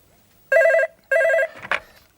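An old-style telephone bell rings in two loud, even bursts with a short gap between them, followed by a brief clatter as the receiver is picked up, in a comedy TV studio setting.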